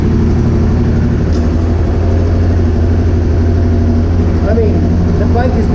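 A 1995 Honda Africa Twin motorcycle engine that has sat unused for years runs loud and steady close by, a constant low rumble filling the whole stretch, with chirpy high bursts near the end.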